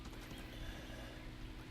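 A horse gallops in the video game Realm Royale, its steady clip-clop hoofbeats faint and continuous, with no talk over them.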